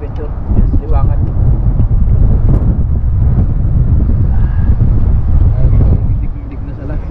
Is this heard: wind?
yes